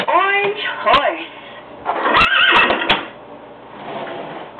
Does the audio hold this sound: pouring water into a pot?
no